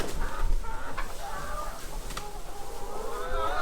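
Hens cluck softly and steadily in straw-lined nest boxes, a low, close murmur of contented chatter with occasional sharper calls over a faint background hum.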